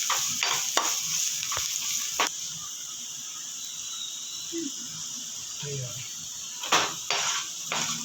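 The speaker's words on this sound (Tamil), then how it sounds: "பீன்ஸ் போட்டுக்கலாம் இது ரெண்டும் கொஞ்சம் நல்லா வேகட்டும்" Carrots and beans stir-fry in a pan for prawn fried rice, a steady sizzle under a constant kitchen hiss, broken by sharp spatula clatters and scrapes at the start and near the end.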